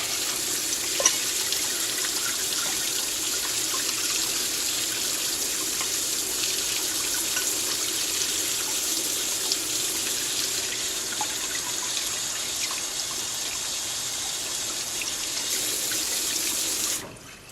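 Running water pours steadily over a hydro-dipped part being rinsed off, a loud, continuous tap-like rush with slight splashing that holds evenly and then cuts off abruptly at the end.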